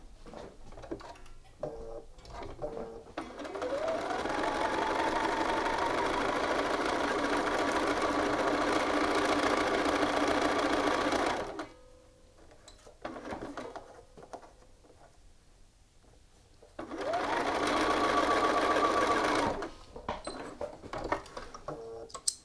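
A sewing machine stitches the shoulder seam of an Archer shirt yoke made by the burrito method, running in a long steady burst, pausing, then running again briefly, close and alone with no talk.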